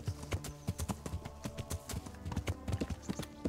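Horse hooves clip-clop in a steady, quick rhythm in the medieval video game Kingdom Come: Deliverance, each hoof strike distinct and close, with no talk over them.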